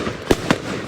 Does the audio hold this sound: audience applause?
no